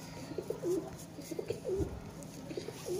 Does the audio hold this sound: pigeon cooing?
yes